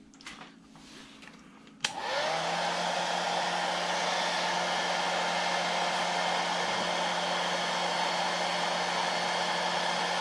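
A hair dryer switches on after a couple of quiet seconds and blows steadily and loudly to dry paint on a painted eye, a constant whooshing roar holding to the end.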